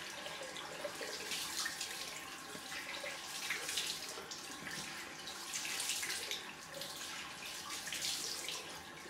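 Cold water runs steadily from a tap into a sink during a post-shave rinse, a soft continuous splash with faint fluctuating spatter, fairly quiet and with no voices.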